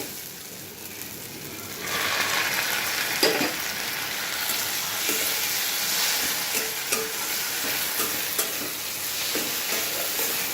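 Lote fish (Bombay duck) fries in hot oil with fried onions, a loud, continuous sizzle that starts suddenly, broken by occasional scraping and stirring sounds in the pan.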